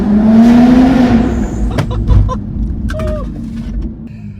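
Loud engine roar from a tuned car, a BMW G87 M2 or a big-turbo A90 Supra, rising then easing off with sharp pops and crackles, plus whoosh and mechanical chirps as the revs fall.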